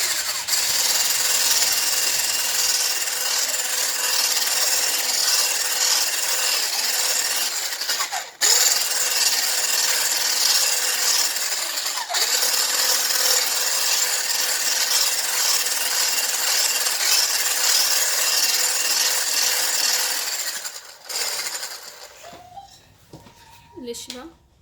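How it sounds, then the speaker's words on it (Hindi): An electric beater whirring through a homemade fig ice cream mixture, a loud steady motorized drone with a short break partway, then winding down and stopping at the end. "अब इन सब चीज़ों को मैं अच्छे से बीट कर लूँगी।"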